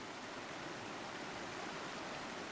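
Rain falling steadily during car camping with a fast tent, an even, dense hiss of drops with no breaks, fairly faint and with no voices.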